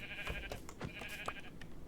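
A few short sheep bleats from the video game Minecraft, fairly faint and spaced out over a quiet background hum.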